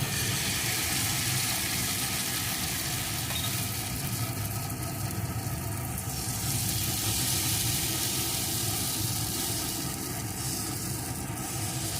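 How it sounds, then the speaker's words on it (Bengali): Batter sizzles on a hot tawa as a soft, even hiss that carries on without a break, with a low steady hum from the stove underneath and no talking. "এখন যে ব্যাটারটি তৈরি করে রেখেছিলাম, ব্যাটার থেকে চামচে করে এইভাবে নিয়ে এই তাওয়ার উপরে দিয়ে দেবো"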